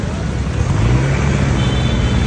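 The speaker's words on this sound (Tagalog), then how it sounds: "Pero tingnan mo, tuloy-tuloy na yung daloy ng traffic." Steady road traffic on a street in Divisoria, Manila: a continuous mix of car and vehicle engine rumble with a low hum, moderately loud and close, no talk.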